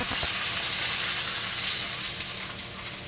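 Steak au poivre searing in a hot pan of fat, a loud, steady close-up sizzle with bright hissing that eases slightly toward the end, no talking.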